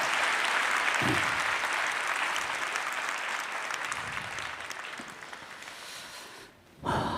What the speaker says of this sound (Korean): 우리 다시 한번 격려의 박수 드리겠습니다